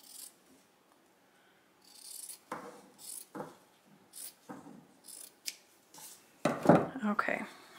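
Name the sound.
scissors trimming fabric around embroidery hoop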